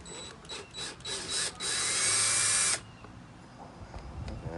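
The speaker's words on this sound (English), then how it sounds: "So I'll just take my drill here and take that screw out." A cordless power drill backs a screw out in a few stuttering pulses that build into a short steady whir, then stops, leaving quiet handling noise.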